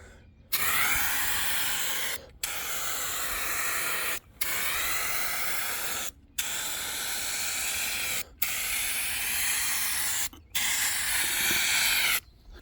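Rust-Oleum gray primer sprayed from a Turbo aerosol can in six steady bursts of loud, even hiss, each about two seconds long and separated by short pauses.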